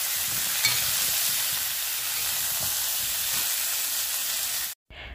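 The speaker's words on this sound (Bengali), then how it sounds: "আর তারপরে বেগুনটা হালকা ভেজে নিচ্ছি।" Eggplant pieces fry in hot oil, giving a steady, close, loud sizzle that runs unbroken and cuts off abruptly just before the end, with no talking.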